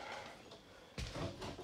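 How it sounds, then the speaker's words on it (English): A quiet room, then a soft thump and muffled rustle as the freezer door of a 2021 SunLite Classic 18RD camper is pulled open. "Open up the freezer door."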